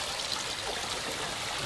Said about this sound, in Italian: Man mano l'acqua adesso sta defluendo